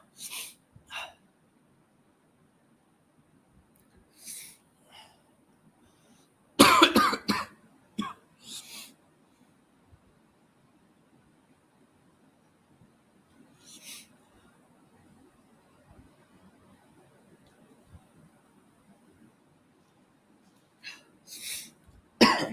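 Someone with a cold coughs in a close, harsh cluster of several coughs midway, with a few other brief coughs and sniffs scattered across an otherwise quiet room.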